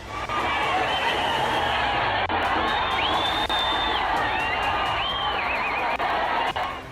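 Dense crowd at a packed Kumbh gathering, a loud continuous roar of many voices with whoops and shouts rising over it, close and sustained throughout.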